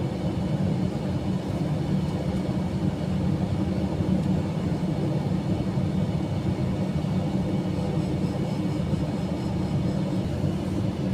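Airbus A321-200 on American Airlines flight 1740 out of Charlotte accelerates down the runway for takeoff, a steady, loud, broadband engine roar and rumble heard from inside the cabin.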